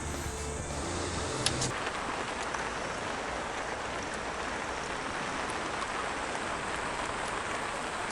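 Heavy rain on a fishing day pours steadily and evenly, a dense continuous patter close by with no talk, broken only by a brief louder splash or knock early on.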